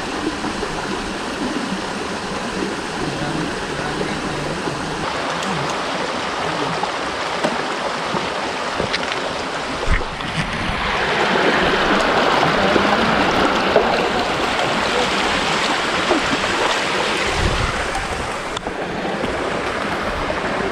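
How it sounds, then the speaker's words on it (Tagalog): Tinakayanan Falls pours down as a broad, steady rush of waterfall and stream water, loud and continuous, with the roar swelling slightly midway. "Yan ang Tinakayanan Falls guys."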